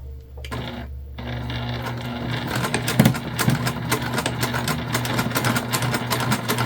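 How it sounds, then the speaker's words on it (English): Sewing machine stitching the seam of a fabric candy bag: a brief soft start, then a steady, close mechanical whirr with rapid needle ticking running continuously and fairly loud. "now we're going to sew, following the seam allowance in the pattern, all the way around everywhere except this top piece"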